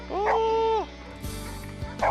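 A dog in a home shared by nine rescued dogs gives a loud, drawn-out whining yelp that rises and holds before fading, followed by quieter rustling and faint voices in the room.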